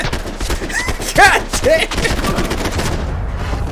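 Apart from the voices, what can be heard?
gunshots in the video game Max Payne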